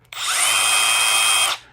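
A Milwaukee M12 stubby drill drives a metal screw in one continuous high whine lasting about a second and a half, starting and stopping sharply, close and loud with no talk.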